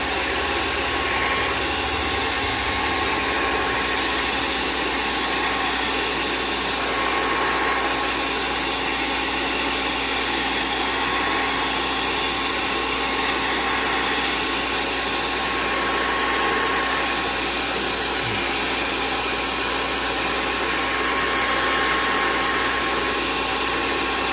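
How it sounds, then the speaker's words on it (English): A hair dryer runs continuously at close range, melting glue off a snow globe, a steady loud whooshing hum with no pauses. "I'll take my hair dryer and get some of that glue melted off"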